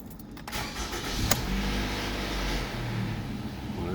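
A 2015 Toyota RAV4 engine cranks and catches, settling into a steady close idle with a faint click at the start.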